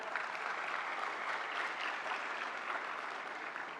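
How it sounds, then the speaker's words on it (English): Conference audience applauding at the National Intellectual Property Conference 2023, a dense, continuous wash of many people clapping at steady volume, alone with no speech. "I want you all to give him a huge round of applause as well."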